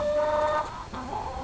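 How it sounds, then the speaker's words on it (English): Farmyard chickens gather during a skunk capture and give a couple of short, close, tonal clucking calls with no talk over them. "Here come the rest of the chickens to see what's going on."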